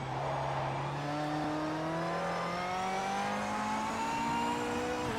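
In the racing game Project Motor Racing, a car engine drones with rising and falling pitch, joined by a thin high whine that could be tire squeal, all continuous with no voices.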